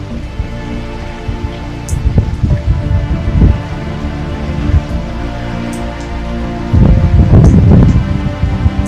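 A strong wind gusts through a severe thunderstorm, rain and rustling leaves building into loud surges near the end, with a low steady roar beneath.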